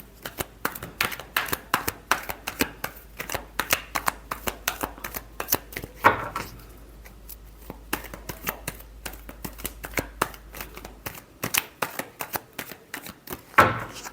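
Tarot cards are shuffled by hand in rapid, crisp riffling bursts, close and clear, with short pauses between rounds and almost no talk.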